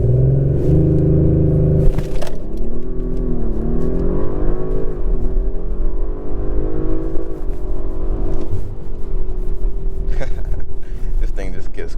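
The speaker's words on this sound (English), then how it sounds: "I wanted to show you guys one more acceleration" A 2023 Audi RS5 Coupe accelerates hard in full race mode, its engine note rising through the revs with gear changes. The drone is loud and close, heard from inside the cabin.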